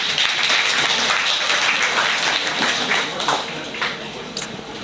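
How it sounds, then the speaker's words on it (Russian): An audience at a poetry event applauds, with a dense, steady clatter of many hands that gradually tapers and softens toward the end. "Аплодисменты."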